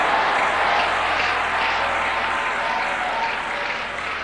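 A large church congregation clapping for God during a service, a thick continuous roar of hand claps at close range that holds steady without pause.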